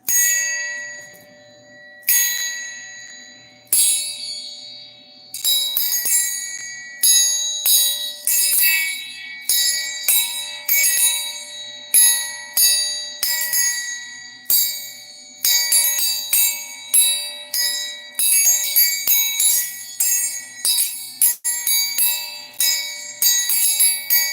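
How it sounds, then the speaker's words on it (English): A metal triangle rings out again and again in quick bursts of bright, shimmering strikes, each left to ring before the next, continuing for over twenty seconds with no voices. "Get the three chimes for the grandparents."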